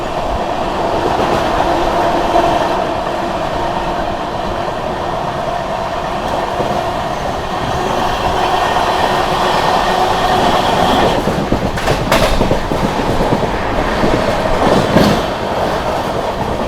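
The Vikramshila Express, running from Anand Vihar to Bhagalpur, rolls steadily as it overtakes the Azimabad Superfast Express, a continuous close rumble of wheels and carriages with rhythmic clatter and a few sharper bursts near the end.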